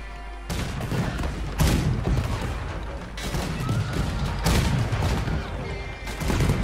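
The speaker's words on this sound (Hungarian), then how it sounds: "Van melletted egy gépágyú, amúgy, azt tudod használni." A machine cannon fires in Red Dead Online, booming in repeated bursts, several loud blasts rolling one after another with rumbling echoes between them.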